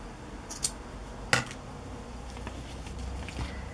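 Scissors snipping a yarn loop on a handmade craft page: two or three quick, soft, close cuts over a low steady background hum.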